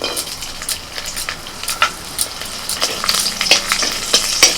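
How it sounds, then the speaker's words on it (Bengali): Oil sizzles and crackles steadily as peeled garlic cloves fry, with a few sharp clicks from stirring scattered throughout. "কিছু ছাড়ানো রসুনের কোয়া তেলের মধ্যে দিয়ে দিচ্ছি"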